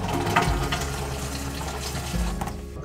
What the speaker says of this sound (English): turn the water pump on. And hopefully we have no leaks.